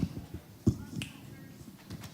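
A group at a vacation Bible school snaps their fingers, producing several faint, scattered clicks with one sharper snap standing out among them.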